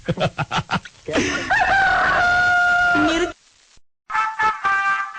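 A voice imitates a rooster crowing cock-a-doodle-doo during a comedy prank phone call: a few quick clipped syllables, then a long drawn-out crow, and after a short gap another crow, all loud and close.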